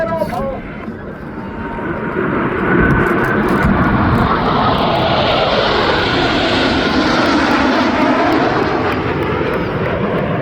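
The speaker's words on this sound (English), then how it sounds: "pilots will simultaneously roll their aircraft 360 degrees as they perform the Delta aileron roll" Blue Angels jets flying a Delta aileron roll at the MCAS Miramar airshow, a loud, sustained roaring engine rumble that swells and holds, with people talking.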